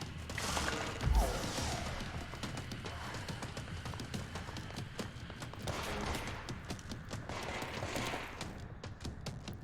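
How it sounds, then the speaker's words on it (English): Gunfire in the video game Control, with a heavy impact early on, then a run of sharp shots and bursts over dense, continuous game noise. "Take a few shots at him while he's just chilling."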